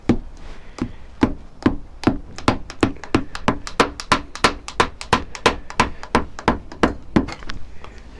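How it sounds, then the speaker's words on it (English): A rubber hammer taps repeatedly on the clutch cover of a 1988 Honda CBR1000F motorcycle engine, a long run of steady, dull knocks close up with no talking. "with your rubber hammer, see if we can't crack it open."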